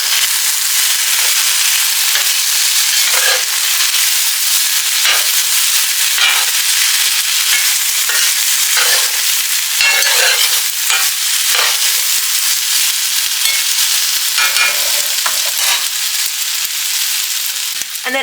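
Potatoes seasoned with paprika and pepper are stirred in a sizzling frying pan, a steady loud fry with repeated scraping strokes of the utensil throughout, no voices.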